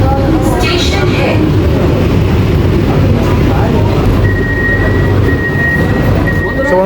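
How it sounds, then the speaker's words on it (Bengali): A Sealdah–Ranaghat AC EMU local train pulls into Naihati Junction station: a steady, loud rolling rumble with a thin high squeal that comes in near the end, and voices murmur faintly underneath. "নৈহাটি জংশন ট্রেন ঢুকলো"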